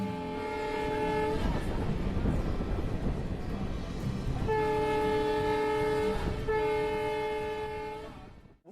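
A DMU train runs at speed on the Jaynagar–Inarwa line near Jaynagar station, a steady loud rumble of wheels with repeated sustained horn blasts sounding over it, heard alone without talk.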